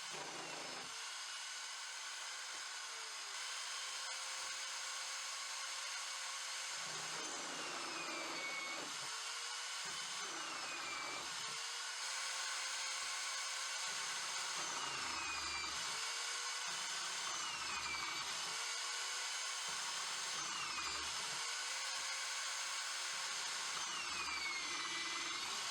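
A Fein DSKe 636 magnetic drilling machine whines and cuts repeatedly, its motor rising and dipping through a series of bores with brief pauses between holes, steady and fairly close.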